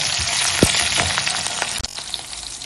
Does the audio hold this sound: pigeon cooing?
no